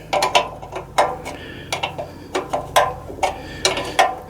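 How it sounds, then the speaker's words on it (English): A ratchet tightening the front wheel bolts on an NSU Quickly S23 moped, giving quick bursts of crisp metallic clicks in short uneven strokes. The work is close by, with no talking. "Now it's very important to tighten up these 2 bolts."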